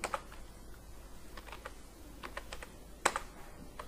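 Scattered keystrokes on a computer keyboard, faint and irregular, with a brief louder cluster of clicks near the end, no talking.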